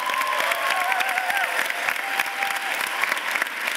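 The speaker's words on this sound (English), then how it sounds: "Give them a round of applause." Crowd at a Middlesex Community College commencement ceremony applauding, a full, continuous burst of clapping with faint cheering mixed in, steady and fairly loud throughout.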